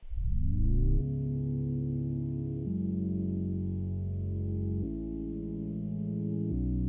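Reversed sound effect in a music production: a swelling, rising tone leads into sustained synth-like chords that shift pitch a few times, steady and alone without talk.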